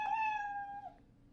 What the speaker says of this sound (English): every time the meow sound plays